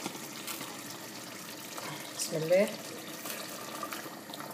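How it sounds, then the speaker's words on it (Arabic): Boiling water poured from a glass into a cooking pot of Tunisian kammounia stew with meat and liver, a short liquid splash and gurgle near the middle, over a low background hum while a voice speaks briefly. "باش نزيد توا مقدار كاس نتاع ماء سخون يغلي"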